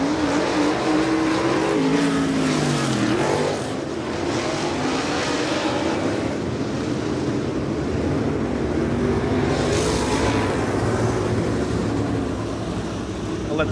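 Sportsman modified race cars run a heat race at Lake View Speedway, engines roaring loudly and continuously as the pack passes, with shifting pitch from acceleration and nearby cars sweeping by.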